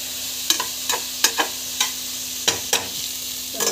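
Green chillies sauté in a pan for biryani, a low sizzle of frying under repeated sharp scrapes and taps of a spoon stirring against the pan.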